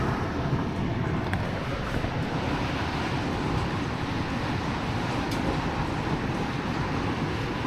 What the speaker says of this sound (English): You can really hear that wind picking up upstairs there.